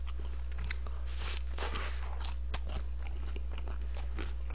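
Close crunchy bites and wet chewing of Korean-Chinese takeout such as sweet-and-sour pork, fried dumplings and noodles, with irregular crisp crackles over a low steady hum and no talk.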